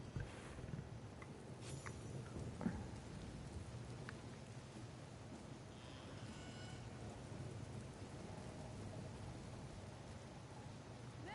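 Steady rain pours throughout a thunderstorm called up as cover in a fantasy game, with low rolling rumble and a few sharper crackles near the start, filling the scene evenly without voices.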